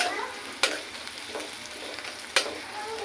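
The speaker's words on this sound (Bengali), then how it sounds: "আমরা পেঁয়াজ মরিচ একটু ভেজে নিলাম।" Onions and chilies fry in a pan for a dried-fish and vegetable dish, giving a steady soft sizzle with two sharp clinks of a utensil against the pan, no voices.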